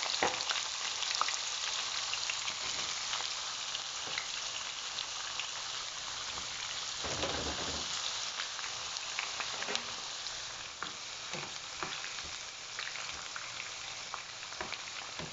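Zucchini slices sizzle and crackle steadily in hot frying oil, a dense, continuous hiss with scattered pops, close and fairly loud throughout with no voices.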